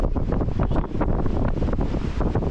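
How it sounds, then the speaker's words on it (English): Strong gusty wind buffeting the microphone on a slippery hiking trail, a loud continuous roaring rumble that surges and dips with no speech. "So windy. It is windy."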